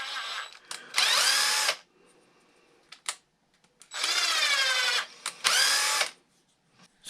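A power drill drives a bolt into plastic on a Traxxas Rustler 4x4 RC car, cutting a new thread: three loud, high whirring bursts of about a second each, separated by quieter pauses with small clicks.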